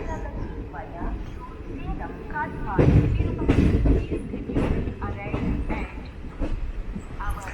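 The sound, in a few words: Jan Shatabdi Express train leaving Coimbatore Junction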